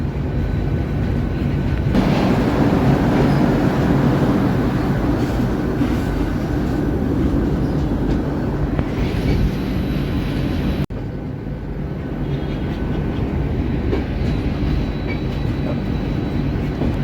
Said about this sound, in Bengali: ট্রেন এখন ঢুকছে কালকা